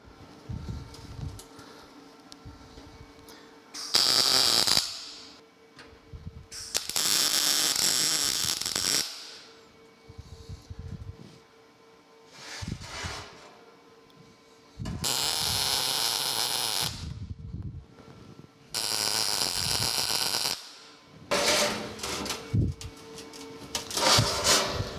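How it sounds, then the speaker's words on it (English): A MIG welder tack welding the frame of a ZT Fab welding cart, with several loud buzzing, crackling bursts of a few seconds each separated by quieter pauses, close up. "let me get my welder fired back up, and we'll get those tacked together"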